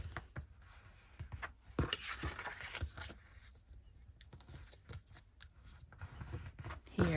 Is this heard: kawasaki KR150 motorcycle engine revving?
no